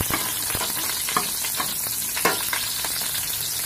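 Onions sautéing in a pan for ginisang bagoong alamang (shrimp paste), a loud steady sizzle with sharp spoon scrapes and stirs every half second or so.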